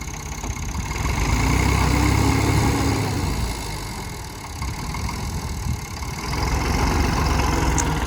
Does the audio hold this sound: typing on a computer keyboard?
no